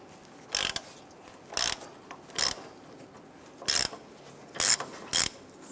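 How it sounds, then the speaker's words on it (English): Ratchet and socket clicking in six short bursts while loosening grille bolts on a 1997-2006 Jeep Wrangler, each burst a quick run of close, sharp clicks separated by pauses, with no voices. "Use a 13 millimeter socket to loosen and remove the bolts securing the grille to cowl strut rods."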